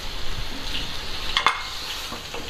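Spices and tomatoes sizzle in hot oil for a tadka with a steady crackling hiss, broken by a brief clink of a utensil against the pan.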